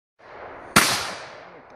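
A single shotgun blast fired at a clay target in an outdoor shooting session cracks sharply and loudly, then fades into a short echoing tail over low background noise.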